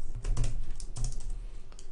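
Fingers type on a computer keyboard at a desk during Java programming, with irregular bursts of close, crisp keystrokes and short pauses between them.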